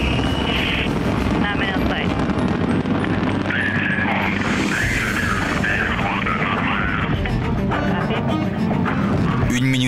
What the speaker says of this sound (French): Puis des tonnes de carburant s'enflamment dans les moteurs du Soyouz.